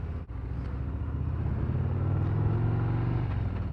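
A 2024 Harley-Davidson CVO Road Glide ST rumbles along on the road, its muted exhaust a low, steady drone that rises slightly while riding, with wind noise mixed in and no talk.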